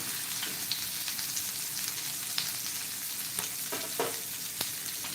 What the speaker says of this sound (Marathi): हाय फ्लेमवरती आपल्याला बांगडे फ्राय करायचे नाही आहेत मीडियम टू लो फ्लेमवरती करायचे आहे